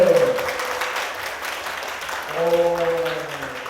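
Audience applause at a live concert event, a broad patter of clapping through the middle of the moment, with voices heard at the start and end.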